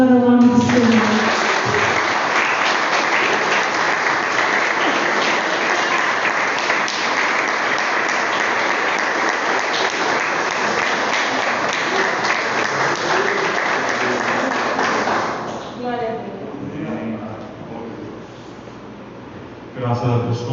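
A church congregation applauds during a worship service, a dense, steady roar of clapping holding for about fifteen seconds before thinning out, with a voice heard briefly at the start.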